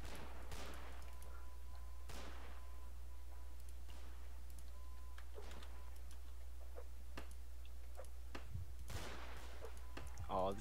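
Musket-style gunfire in a Mount & Blade Anglo-Zulu War multiplayer battle: scattered sharp shots crack one after another at varying distances over a low steady hum, with faint voices in the background.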